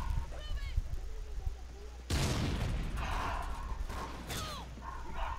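Sniper fire and other gunshots ring out in a Call of Duty Ghosts team deathmatch, with a sharp, loud shot followed by scattered further bursts over a steady background rumble, and a player talks briefly.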